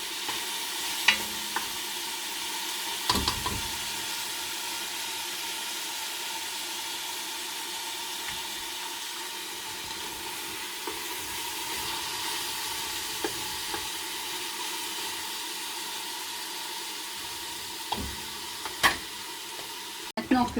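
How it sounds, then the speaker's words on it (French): Smoked pork belly and plain lardons browning in a pan for a cabbage potée give a low steady sizzle and hiss, with a few sharp clinks and stirring scrapes scattered throughout. "Maintenant que mes lardons et mes ventrèches sont revenus, je mets le chou."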